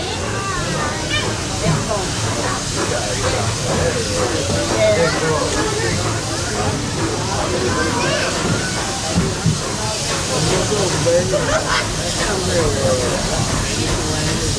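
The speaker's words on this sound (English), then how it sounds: "There are some who say that this steam train is a little old-fashioned" Steady broadband hiss fills the whole stretch with a rumbling, chugging undertone, like a steam train venting as it runs at Walt Disney World, with voices faintly mixed in.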